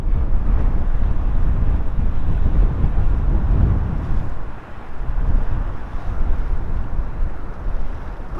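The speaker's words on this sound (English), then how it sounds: "It's not cold for October, but it is windy." Strong wind buffets the microphone throughout an October ride on a Honda CB650R motorcycle, a loud, steady roar with a brief dip midway and no speech.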